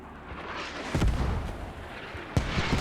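Mortar fire in the video game Squad: two heavy booms, one after about a second and another near the end, land over a rumbling battlefield background at moderate distance.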